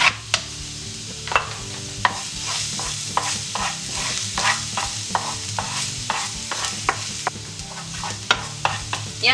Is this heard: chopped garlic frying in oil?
yes